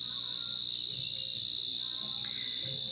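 A cricket stridulating with the sound organ on its fore wing, giving a steady, loud, high-pitched continuous trill that stays unbroken throughout, close up, with faint low background noise beneath.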